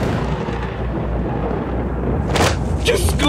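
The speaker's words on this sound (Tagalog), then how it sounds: "nakatingin sa papawirin na kung saan nagsasalimbayan ng kulog at kidlat" Thunder rumbling as a sound effect in a spoken horror tale, a steady low roar building to louder cracks near the end, loud and close.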